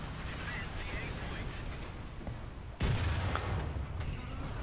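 Tank cannon fire from a Panzer IV G in the War Thunder video game, a sharp loud blast partway through with rumbling battle noise before and after, over continuous low engine and ambient din.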